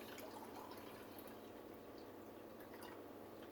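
A Keurig Duo reservoir being filled with a half vinegar, half filtered-water descaling solution gives a steady, faint pouring hiss that runs unbroken throughout, with no talking.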